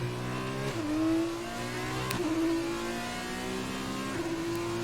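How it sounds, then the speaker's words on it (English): Formula 2 race cars with turbo engines run at speed at a Vietnam circuit, a sustained high engine whine that drops in pitch at several gear shifts and climbs again, loud and continuous with no talking. "I love the turbo sound of these FT cars"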